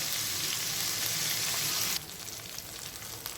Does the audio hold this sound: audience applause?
no